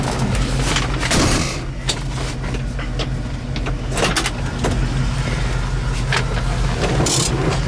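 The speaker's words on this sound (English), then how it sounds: "listen to it idle here" A red 1968 Ford Mustang engine idling, a low steady rumble with a few clicks and knocks over it, loud and close.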